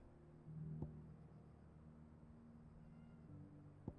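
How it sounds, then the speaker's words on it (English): A house cat meows indoors in a quiet room, one drawn-out cry early on and a shorter call near the end, faint over a low steady hum. "Sorry, my cat's being bad."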